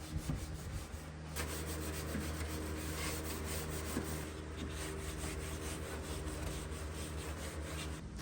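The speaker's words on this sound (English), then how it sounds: "I'm going to go ahead and scuff sand the rest of the body to get ready for primer." A vintage wooden buffet body is scuff sanded by hand, giving a continuous, close, even rasping rub that carries on for several seconds without pause.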